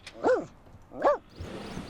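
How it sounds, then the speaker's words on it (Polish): Dogs in The Sims video game give two distinct, evenly spaced barks at moderate volume, followed by a softer trailing yip against a quiet background. "Pieski szczekają."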